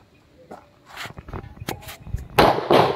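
Sharp gunshot reports at an outdoor shooting range, a few scattered cracks building to a louder burst near the end, close and prominent with faint talk around them.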